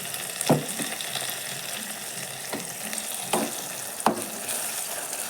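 Ginger, garlic and tomato paste sizzles and fries in a pan, with a few sharp scraping stir strokes of a spoon against the pan over a steady crackling hiss, heard close and alone.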